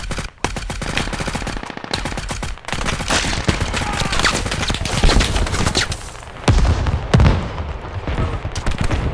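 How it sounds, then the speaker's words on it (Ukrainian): Machine gun fire in the military shooter game Squad comes as long rapid automatic bursts with brief pauses between them, loud and close, mixed with other gunfire and impacts and occasional faint voices. "Я б'ю по пікапу поки з пулеметом."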